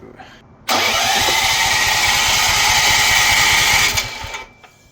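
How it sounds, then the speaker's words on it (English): A small Hyundai four-stroke engine with its spark plug out and low compression cranks over during a compression test with a loud, rapid pulsing whir for about three seconds, then stops abruptly. "While I've got the spark plug out as well, I'm going to do a quick compression test."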